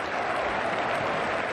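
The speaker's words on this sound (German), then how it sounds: "Holt sie nochmal Applaus ab bei den mitgereisten Fans." Travelling fans at a football stadium, HSV against 1. FC Nürnberg, clap for the team in a dense, steady wash of applause that sounds a little distant.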